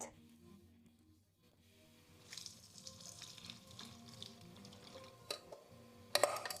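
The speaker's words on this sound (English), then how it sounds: "Let's save a little bit of this water where we boiled the potatoes, just a little in case we need it. Let's strain the rest." Water left from boiling potatoes is poured off through a strainer in a home kitchen, a close, steady splashing pour lasting several seconds, with a sharper clatter near the end.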